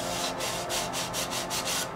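A mini hand grinder fitted with a sandpaper bit grinds down a protruding edge of wood, giving a soft raspy scrubbing in several rhythmic strokes, close and fairly quiet, with no talking.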